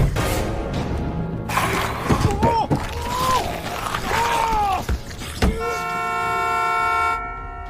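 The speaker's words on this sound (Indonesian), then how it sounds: "suara klakson itu memancing datangnya zombie" A car horn blares in a zombie action film scene, after a scramble over an infected driver's seat belt. It sounds in short blasts and then one long, loud sustained honk, mixed with dramatic score and voice-like cries.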